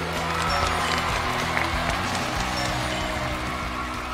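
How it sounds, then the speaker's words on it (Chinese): Studio audience applause greets the guest panel on a Chinese job-seeking TV show, a dense, steady wash of clapping that holds for several seconds over a low musical bed. "首先以热烈的掌声欢迎我们的解惑团的各位嘉宾"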